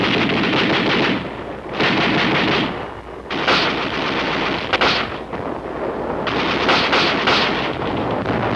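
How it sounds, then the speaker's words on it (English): Automatic rifle fire from Korean War combat rattles in loud, rapid sustained bursts, several long strings of shots broken by short pauses, with a rough field-recording quality. "The auto rifle."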